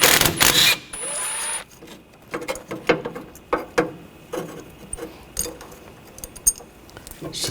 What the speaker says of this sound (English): I'm going to remove this bracket, use a 10mm socket. Take these bolts out.